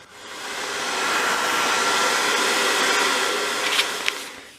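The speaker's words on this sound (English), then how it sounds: "So I'm just using my hairdryer, which will speed up the glue drying time" A hair dryer blows with a steady, close, loud whoosh that holds evenly for a few seconds, with a couple of faint clicks near the end, drying glue on wallpaper in a dollhouse living room.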